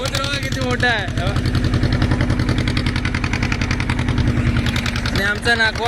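Diesel engine of a fishing boat running at sea off Navi Mumbai, a loud, close, steady rhythmic chugging throughout, with someone talking over it.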